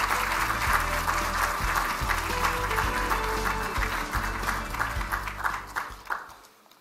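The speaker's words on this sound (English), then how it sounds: "please welcome Governor Lee with a big round of applause." Large audience applause at the Bank of Korea International Conference welcoming a governor to the podium, full and sustained, with a low hum underneath, fading out at the end.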